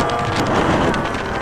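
Strong westerly wind of about 25 km/h blows across a model aircraft meeting, a loud, dense buffeting roar against the microphone with no pauses.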